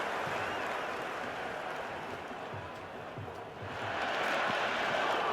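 A stadium crowd in the cricket video game Cricket 26 cheers and applauds during an India versus England one-day match, a broad steady roar that swells louder near the end, with commentary over it.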